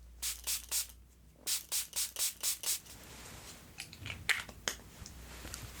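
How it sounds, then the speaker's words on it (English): A spray bottle mists a towel in a barbershop spa setting with about nine quick, close spritzes in two bursts, followed by soft rubbing and cloth rustling. "Gonna mist our towel here"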